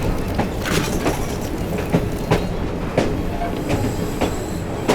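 A steam-era train runs in Assassin's Creed Syndicate, its wheels clacking in a steady rhythm with recurring sharp metallic knocks and squeals over a loud, continuous rumble.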